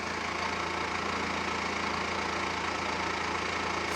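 A Mercedes Sprinter van's engine idles steadily while charging through its alternator, a continuous broadband hum with low rumble that holds at a constant level throughout, with no talking.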